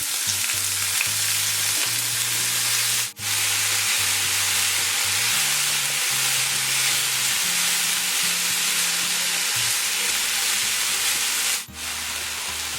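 Broccoli stir-frying in a pan with popped mustard seeds gives a loud, steady sizzle with stirring scrapes throughout, broken by two short pauses. No one speaks.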